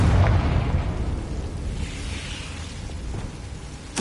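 A Confringo spell blast in Hogwarts Legacy on PS5: a loud, deep boom rolling into a sustained rumbling roar that fades slowly, with a sharp burst at the very end.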